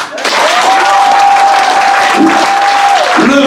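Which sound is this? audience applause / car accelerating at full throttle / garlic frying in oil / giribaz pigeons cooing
audience applause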